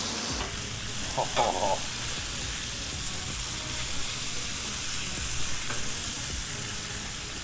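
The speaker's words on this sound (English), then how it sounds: "Let those saute for a little bit and that juice." Mushrooms sauté on a Blackstone griddle, giving a loud, steady, close sizzle with a few faint scrapes and a brief spoken exclamation.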